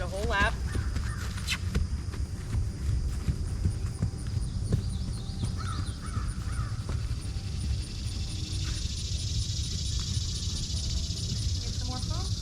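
A horse trotting on a training lap, hooves clip-clopping in a steady rhythm at moderate distance, with crows cawing and people talking over it.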